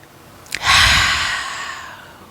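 A single deep breath during a still, quiet yoga exercise for kids: a short sharp intake followed by a long, loud, close exhale that slowly fades out.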